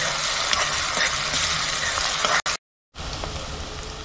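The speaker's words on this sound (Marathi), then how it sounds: "ते आता आपण त्याच्यामध्ये मसाले घालूया थोडे थोडे आणखी आणि परतून घेऊया तेलावर" Chicken and onion sautéing in oil with spices, a dense close sizzle and crackle with faint stirring, briefly cut to silence before the frying resumes.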